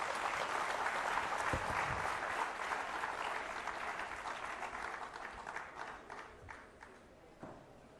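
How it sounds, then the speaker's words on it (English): Audience clapping at a cyber crime conference, a full round of applause that gradually thins into scattered claps and fades out. "A round of applause to Mr. Avkash Katiria"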